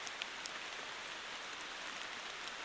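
Steady rain in the driving game Motortown, a dense, even hiss of drops on surfaces running unbroken and fairly loud throughout, with no voices.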